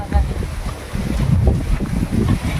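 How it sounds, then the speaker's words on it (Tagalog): Strong wind buffets the microphone in steady low rumbling gusts for the whole stretch, loud and close, with no talk over it. "Kasi ang lakas ng hangin."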